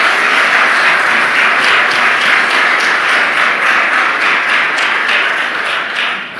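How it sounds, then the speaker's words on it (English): An audience gives a round of applause for the Treasury Secretary, a loud, dense wash of clapping that holds steady throughout and eases off slightly at the very end. "Can I get a round of applause for our Treasury Secretary?"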